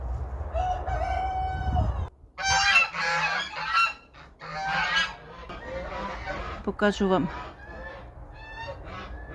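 Geese honk loudly and repeatedly close by in a farmyard yard, mixed with a rooster crowing and hens clucking, and a person speaks briefly.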